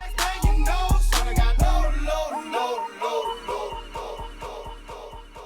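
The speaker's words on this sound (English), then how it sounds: "put a bit of echo at the end of this track so it tails off nicely into the other track" A DJ track plays a few beats with heavy bass, then the music drops out, leaving a one-beat echo effect repeating the beats as they fade away.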